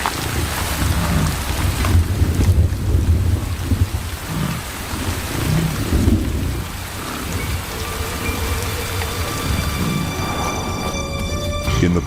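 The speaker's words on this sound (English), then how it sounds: "Rain comes to the prairies, slaking the parched ground and creating a sea of grass." Heavy rain and thunder over prairie grassland: a steady, loud downpour runs throughout while deep thunder rumbles roll in and out, with no voices.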